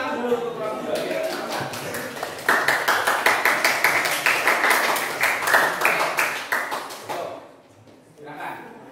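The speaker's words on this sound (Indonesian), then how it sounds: "Tepuk tangan dulu untuk kelompok 2 ya." Classmates in a classroom clap for a presenting group, starting scattered and then building into a steady rhythmic clapping that fades out, followed by a brief voice.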